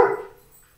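A single short dog bark rings out near and loud, then fades quickly into quiet.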